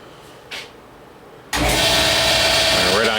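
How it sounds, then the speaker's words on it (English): An air compressor in a motorcycle build workshop kicks on suddenly after a quiet moment, jumping straight to a loud, steady mechanical roar that continues without pause. "Right on cue goes the compressor."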